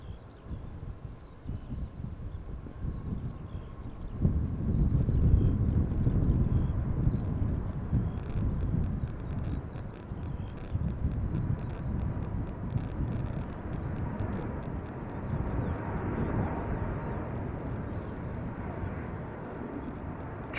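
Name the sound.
China Airlines Airbus A350-900 airliner at Schiphol Polderbaan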